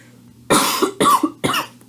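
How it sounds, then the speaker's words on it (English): Three harsh coughs in a row, close and loud, each a short broadband burst with a rasping tail, spaced about half a second apart against a low steady hum. "I can't escape this awful cough."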